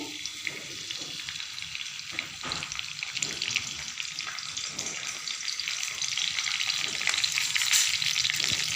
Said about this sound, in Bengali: তেলের মধ্যে তেজপাতাটা দিয়ে দিচ্ছি।